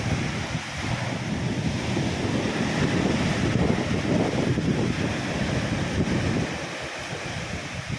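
Rough sea waves roll onto the shore in stormy weather, a loud continuous wash of surf mixed with heavy wind buffeting close to the microphone.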